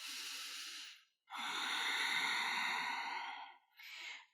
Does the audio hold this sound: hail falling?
no